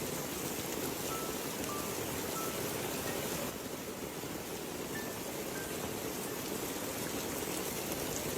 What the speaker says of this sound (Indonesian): Malam itu, hujan turun lebih deras.